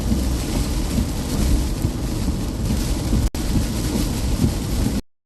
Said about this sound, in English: I'll focus on driving in the rain.